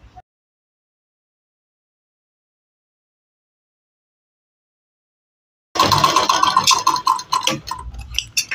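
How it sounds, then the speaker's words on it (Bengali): A sewing machine stitches a bra-cut blouse in a rapid, clattering run of needle ticks that starts abruptly after a long silence and continues close and steady to the end. "এইভাবে সেলাইটা পুরোটা ঘুরিয়ে নেব, পুরোটা ঘুরিয়ে এটার উপর দিয়ে সেলাইটা চাপিয়ে দেবো।"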